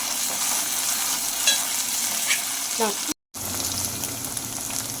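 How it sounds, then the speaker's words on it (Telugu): Onions sizzle steadily in a pan as ginger paste is stirred in, a strong even frying hiss with a brief scrape, cut by a momentary gap before the sizzle resumes. "అల్లం పేస్ట్ అయితే వేసుకుంటున్నా. వేసుకొని మంచిగా కలుపుకొని"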